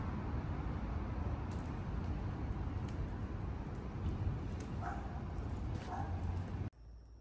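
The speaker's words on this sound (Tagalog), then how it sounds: "May aso." A dog barks and yips a few times, fairly distant, over steady street and traffic noise in Milan, with the background cutting off abruptly near the end.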